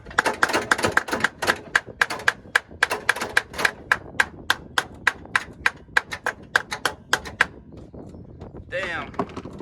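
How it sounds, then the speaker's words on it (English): Sharp metallic hammer strikes on a car's starter ring out in a fast, steady series of about two dozen blows, followed by a brief scraping rustle. "When in doubt, hammer it out."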